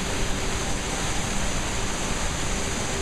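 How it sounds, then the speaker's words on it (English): A waterfall in Vintgar Gorge, Slovenia, gives a loud, steady, close roar of rushing, crashing water that fills the whole moment without pause, with no voices over it. "It's the waterfall of a lifetime, people."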